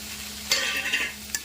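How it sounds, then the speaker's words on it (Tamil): Tomatoes sizzle in a hot pan with a few short bursts of stirring scrapes, close and moderately loud, no talking. "தக்காளி போட்டு நல்லா வதக்கணும்"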